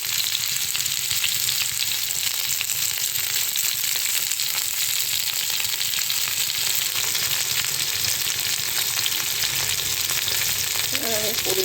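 Vegetable stalks sizzling in hot oil in a pan, a loud, dense and unbroken frying hiss that runs the whole time without speech.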